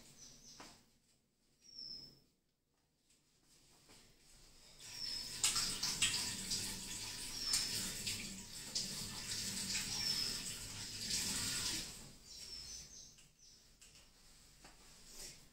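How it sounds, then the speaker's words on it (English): Running tap water as hands are washed in a kitchen during truffle-ball making, a steady splashing hiss that swells for several seconds and then stops, faint and close. "Let me just wash my hands."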